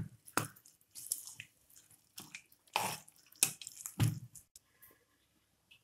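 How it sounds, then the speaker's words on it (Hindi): Khichdi being stirred with added water in a pot, giving several wet squishy scrapes and splashes in an irregular rhythm, close and fairly quiet. "पानी के साथ हम अच्छे से खिचड़ी को मिक्स करेंगे।"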